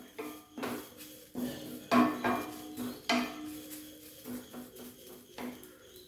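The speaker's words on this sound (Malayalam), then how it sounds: "ആ മീഡിയം ഫ്ലെയിമിൽ വെച്ചൊന്ന് വറക്കാം നമുക്ക്" Drumstick leaves roast in a pan over medium flame as a metal spatula knocks and scrapes against it in irregular bursts, with quieter pauses between.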